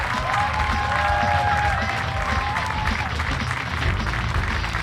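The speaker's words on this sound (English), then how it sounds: "Let's give a round of applause for a very funny guy" A comedy club crowd gives a round of applause to a comedian named Ahmed, loud continuous clapping and cheering with a few whistles and shouts, steady throughout and close.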